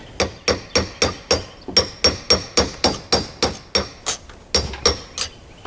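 A hammer whacks the corners of a Toyota Tundra carrier bearing in a fast, steady series of about twenty sharp metallic blows, loud and close, with no talking.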